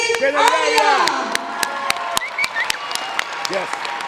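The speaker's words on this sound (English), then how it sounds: "Please give me a round of applause to Kennedy Arias." A crowd at a ceremony in Providence, Rhode Island honoring a youth mentor claps and cheers loudly, with whoops and voices rising over steady applause and sharp individual claps throughout.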